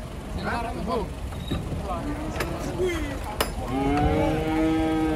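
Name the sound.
cattle mooing unloaded from a truck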